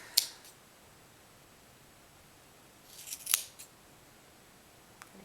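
Scissors snip through yarn while a pom pom is trimmed, a few sharp, close cuts: one at the start, a short cluster of snips a few seconds later, and a faint final snip, with quiet pauses between.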